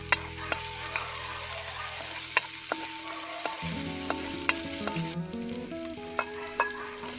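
Chopped green chillies with ginger sizzle in a pan for a spicy chicken dish, a steady close frying crackle punctuated by repeated sharp clicks and scrapes of a spoon stirring.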